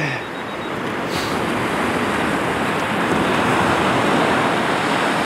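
Ocean waves breaking on St Cyrus Beach at sunrise, a steady, loud roar of surf with wind noise over the microphone and no one talking.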